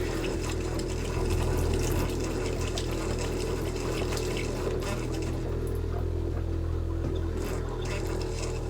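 Water runs steadily from a sailboat's water tank tap, a continuous broadband rush with a low pump-like hum underneath, fairly loud and close, with no talk.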